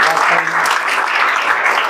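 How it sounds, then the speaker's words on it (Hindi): Applause from an audience at a coaching institute's celebration of JEE Main 2024 results, a steady dense clatter of clapping filling the short moment with some speech mixed in. "तो उसके लिए जोरदार ताली बजा दीजिए।"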